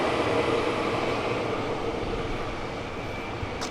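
A train rumbles past, a continuous loud rushing roar with heavy low-end noise that holds steady for a few seconds, with no voices over it.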